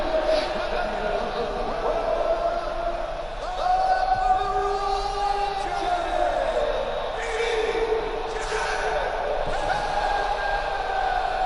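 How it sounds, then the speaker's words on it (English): Arena crowd noise from the UFC 2 video game, a steady broad roar of booing and jeering aimed at BJ Penn, continuous throughout with rising swells and a commentator-like voice talking over it. "The crowd really not in favor of BJ Penn here tonight."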